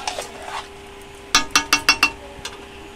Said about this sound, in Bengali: এই যে ভালো করে আমি কষিয়ে নিচ্ছি, আরও কষাবো।